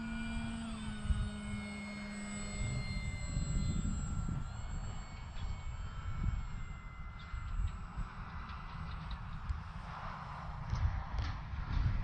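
An FMS PA-18 Super Cub RC model plane flies overhead, its small electric motor droning steadily at moderate distance with a faint whine that rises and fades, against outdoor wind noise.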